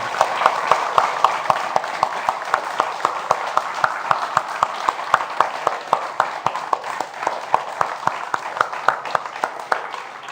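An audience claps at the close of an evening event, a loud, dense wash of applause with sharper individual claps standing out in a fairly regular rhythm throughout.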